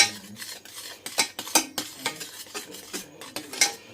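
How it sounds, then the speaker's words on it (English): A spoon stirs a mixture in a bowl, giving repeated close scraping and clinking strokes in an uneven rhythm, with no talk. "I don't use a whisk, I only use a spoon."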